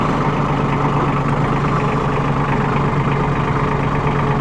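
A Massey Ferguson 1734E compact tractor with gear transmission runs at a steady, loud idle, its engine hum constant and close throughout with no talk.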